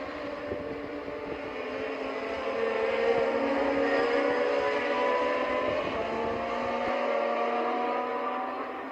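A 1976 Formula 1 car at Monza in the Assetto Corsa racing game drives with a steady, high, whining engine note that swells a little and holds for several seconds before easing off.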